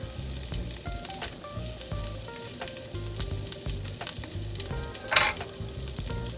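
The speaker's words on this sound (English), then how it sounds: "And yes, I'm going in with this entire stick of butter" A whole stick of butter melting in a hot pan, crackling and sizzling steadily with scattered pops and a brief louder spatter near the end, no voices.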